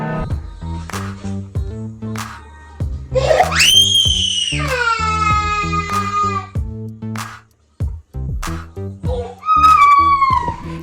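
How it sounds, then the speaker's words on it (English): A baby screams loudly and up close in long, rising wails, pauses, then breaks into another shrill cry, all over a steady tonal background. "my baby is screaming, which further frustrates me"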